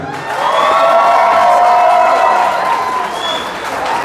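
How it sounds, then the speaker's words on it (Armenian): Wedding guests, the groom's relatives, applaud loudly and steadily for about four seconds, with cheering voices mixed into the clapping throughout. "դե հիմա այս պահին Տիգրանի բարեկամներն են ծափ տալի։"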